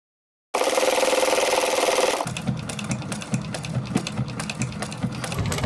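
A sewing machine makes a second pass around the base of a shoulder bag, inside the seam allowance, using a narrow foot. It runs close and steady at first, then drops into a rougher, uneven mechanical chatter. No one speaks.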